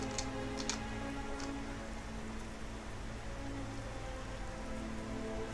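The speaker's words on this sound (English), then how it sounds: "I love the sound of rain in games." Steady rain falls in the World of Warcraft game, a continuous even hiss with a few light ticks of drops near the start, no voices.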